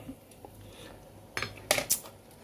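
A spoon scrapes and clinks against a pot while mushroom curry with phak tio leaves is stirred, a few close metallic taps and clatters over quiet kitchen background.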